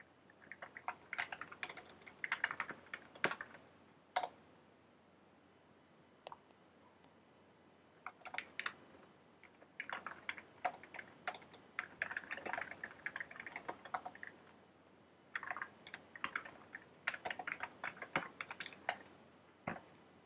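Rapid typing clatters on a computer keyboard while a code test is written, in bursts of quick keystrokes separated by short pauses, close and fairly faint.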